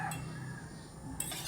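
A utensil stirs beaten egg yolks in a mixing bowl for a no-bake steamed ube yema cake, giving a soft, steady scraping and faint clinking against the bowl, fairly quiet and continuous with no talk.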